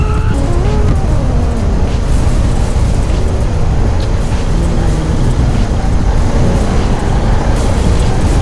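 A car doing a burnout in Roblox Car Driving Indonesia, a loud steady roar of revving engine and spinning tires that holds without a break.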